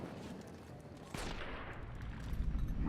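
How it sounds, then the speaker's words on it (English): A gunshot in the Fallout: New Vegas wasteland cracks out suddenly over steady background game noise, one sharp report followed by a rising wash of rumble and debris. "He just got shot."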